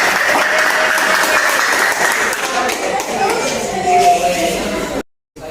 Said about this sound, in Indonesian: tepuk tangannya buat mereka